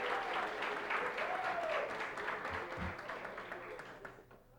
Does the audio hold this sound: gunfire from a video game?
no